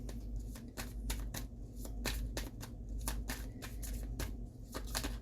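Tarot cards shuffled and pulled by hand, a steady run of crisp riffling flicks and snaps close up, with no talking.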